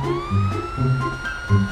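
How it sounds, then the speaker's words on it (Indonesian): Ambulance siren in the GTA 5 video game arriving on a modded Indonesian police scene, a steady rising wail with harmonics over a low engine rumble and pulsing horn-like tones, close and fairly loud. "Oh, ini dia ambulan datang."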